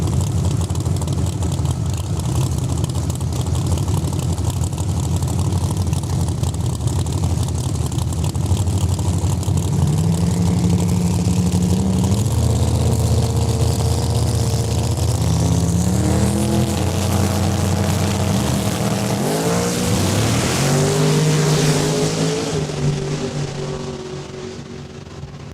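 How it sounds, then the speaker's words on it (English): A blue Bromod Camaro drag race car at Saskatchewan International Raceway roars steadily and loudly, its engine pitch climbing and shifting late on before fading away at the end. "keep an eye on this blue Camaro, Scotty Yaremko."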